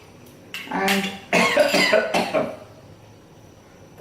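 Coughing fit from the heat of bird's eye chilies while cooking a noodle dish: a few short harsh coughs, then a longer burst of several rough coughs close up, fading to quiet breathing.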